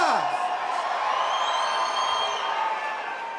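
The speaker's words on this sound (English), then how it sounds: "There's such a big crowd here." A large crowd cheers and whoops at a boxing weigh-in for Cotto vs. Canelo, a loud sustained roar with whistles and shouts filling the hall throughout.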